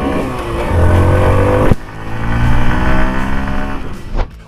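A Honda Passion XTEC motorcycle engine runs loud and close, droning steadily, then briefly cuts and picks back up with a rising rev before easing off.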